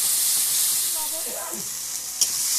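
Onion and spice paste frying in mustard oil for a duck curry, producing a loud, dense, steady sizzle with a faint murmur briefly underneath and one sharp tap near the end.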